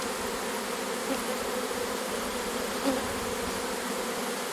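A honeybee swarm pours into a hive with a dense, steady buzzing that holds at an even level throughout, close by, with no voices.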